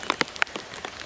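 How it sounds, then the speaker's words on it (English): Heavy rain on a homestead, drops spattering close by in irregular sharp taps over a soft steady patter. "it's been raining pretty hard ever since we got here."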